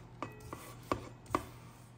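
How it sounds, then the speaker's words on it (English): A spatula scrapes sugar cookie dough down the sides of a mixing bowl, four distinct dull knocks and scrapes against the bowl, close and quiet, with no talk. "I am gonna scrape some of this that has come up higher on the bowl back down in"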